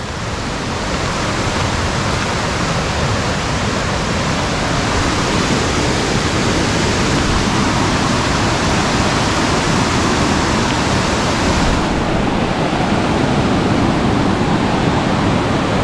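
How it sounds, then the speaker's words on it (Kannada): Edampalli roadside waterfall near Munnar, a loud, constant broadband rush of falling water that fills the whole stretch without pause and with no voices. "ಇದು ಎಡಂಪಲ್ಲಿ ವಾಟರ್ ಫಾಲ್ಸ್ ಅಂತ ಇದರ ಹೆಸರು"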